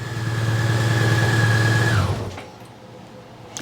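A Honda Goldwing motorcycle engine idles with a steady close hum and whine, then cuts off about two seconds in, leaving quiet background.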